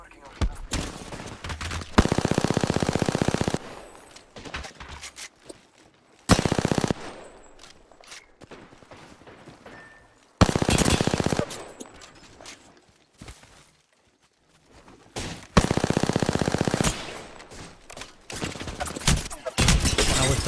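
Enemies firing in the video game Apex Legends, heard as several loud, sustained bursts of automatic gunfire separated by quieter stretches of footsteps and game sounds, with occasional talk in between.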